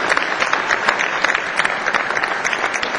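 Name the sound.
audience applause for the traditional arts group from Beijing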